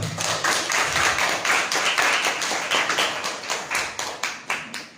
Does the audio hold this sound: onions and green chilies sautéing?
no